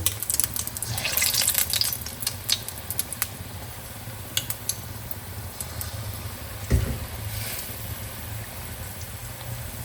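Jaggery gulgule batter dropped into hot oil, fried like pakoras: a continuous bubbling hiss with scattered crackles and a soft thump partway through, fairly close and steady.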